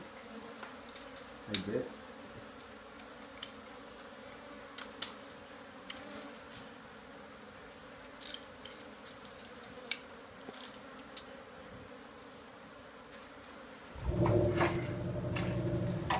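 Honey bees buzz in a steady swarm drone during a garage hive rescue in Edinburg, Texas, with scattered clicks and knocks over the hum, a brief spoken remark, and a louder burst of rustling noise near the end.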